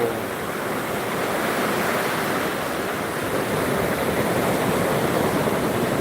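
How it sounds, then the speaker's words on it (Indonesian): Steady wash of ocean surf rolling onto a tourist beach in Trenggalek, Indonesia, in late afternoon at high tide, continuous and fairly loud, with a constant breezy roar and no voices. "Inilah suasana pantai wisata Trenggalek di sore hari ini."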